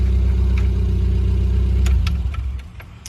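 A healthy classic car engine idles through a single exhaust with a steady, close, low rumble, then shuts off about two seconds in, leaving a few faint clicks and ticks.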